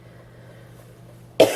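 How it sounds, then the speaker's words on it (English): A single sharp cough bursts out at the very end after a quiet stretch of low hum. "Sorry, I keep coughing,"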